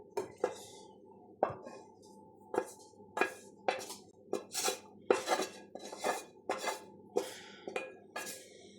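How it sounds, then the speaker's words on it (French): Lardons being mixed into spätzle in a dish, with a utensil clinking and scraping against the dish in a steady run of sharp, close knocks and no voices. "nous allons mélanger les lardons dans les spätzle"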